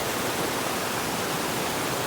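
A small wild creek flows steadily, its water producing a dense, even rushing hiss that holds constant and fairly close throughout, with no voices over it.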